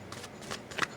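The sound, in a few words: shuffling oracle cards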